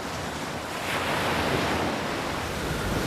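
Stormy open sea with deep water, broad crashing surf and gusting wind roaring steadily, loud and continuous with a swell in intensity midway, no voices.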